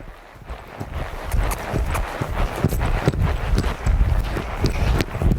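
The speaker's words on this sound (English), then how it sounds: "So we'll ask him out for a lope." A five-year-old paint gelding lopes, hooves clip-clopping in a quick, steady rhythm, loud and close, with some wind noise and no talk.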